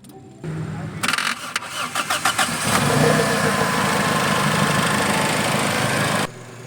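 A small-bodied Toyota car sits unused for four months before its engine cranks in several quick bursts, then catches and settles into a steady, loud idle that runs for a few seconds before cutting off.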